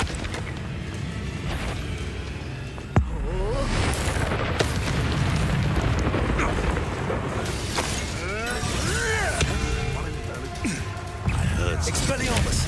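Repeated Confringo blast spells from Hogwarts Legacy burst amid dense, continuous game combat noise: a sharp booming impact near three seconds, further explosive hits and whooshing magic, with speech-like game voices mixed in throughout.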